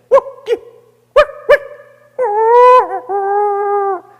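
A preacher leading a Christmas dawn church service imitates a dog with his own voice: two pairs of short yelps, then a long, wavering, sustained howl, loud and close, with no other talk.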